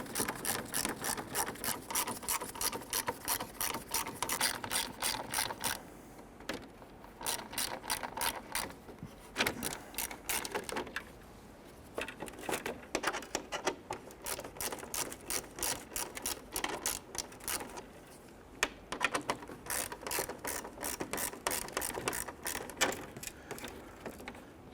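Ratchet wrench backing out 10mm screws along the bottom of a grille on a 1999-2004 Jeep Grand Cherokee, a fast, close clicking in repeated bursts with short pauses between screws.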